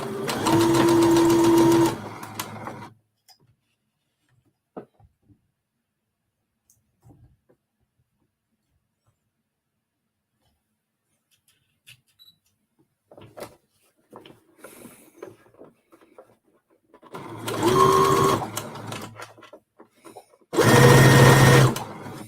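A home sewing machine stitches close to a folded fabric edge in two or three loud bursts of motor whir, separated by a long quiet stretch with faint handling taps.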